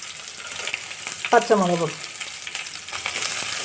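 Onion and garlic fry in a pan for papaya thoran with a steady, close sizzle. A voice briefly speaks a word midway over the hiss.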